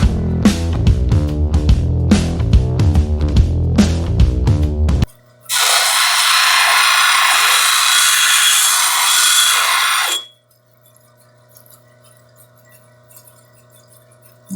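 A power tool polishing lapis lazuli stone whines loudly and steadily for about five seconds after a stretch of music, then cuts off abruptly, leaving near silence with a faint low hum.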